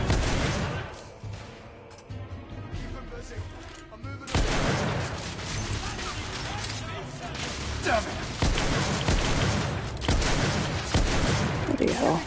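A pistol fires in the video game The Order, its repeated sharp shots mixed with other combat noise and heard under a person talking.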